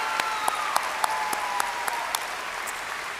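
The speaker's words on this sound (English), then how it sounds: "please join me in giving our senior choir members another round of applause for the performance of our national anthem" Applause at a high school graduation for the senior choir after the national anthem, steady massed clapping with a few sharp, louder claps standing out near the front, continuous throughout.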